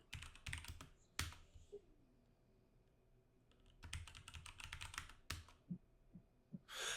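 Bursts of computer keyboard typing entering a sudo terminal command while compiling and installing a Linux kernel on Arch Linux, with several quick clusters of keystrokes separated by pauses, close and fairly quiet.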